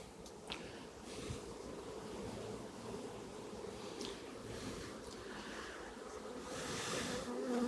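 Honey bees swarm around an open hive being split in a New South Wales apiary, a dense, continuous buzzing that stays close and steady and swells louder near the end.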